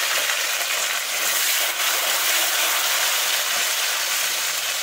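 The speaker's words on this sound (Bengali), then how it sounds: "ভাজা হতে হচ্ছে আমি টমেটোটা দিয়ে দেবো" Tomato with a little salt frying in a pan, giving a steady, close, even sizzling hiss that runs unbroken throughout with no talking.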